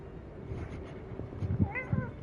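A house cat meows twice near the end, rising and falling cries over a low background hum, with faint bumps beforehand.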